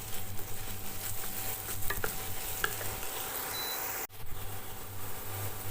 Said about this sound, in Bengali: ভালো করে একটু নাড়িয়ে নেব আর একটু ভাজা ভাজা হবে আলু আর নারকলটা